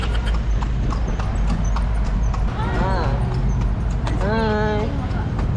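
Horse hooves clip-clop steadily as the horse pulls a tartanilla carriage in Cebu, with street traffic around and a horse whinnying briefly; people talk over the hoofbeats throughout.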